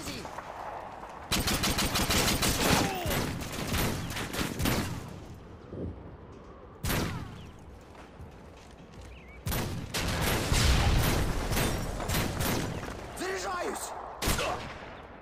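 Rapid automatic gunfire in the video game Modern Warfare 2 comes in long dense bursts separated by short pauses, loud and close, with a voice talking over parts of it.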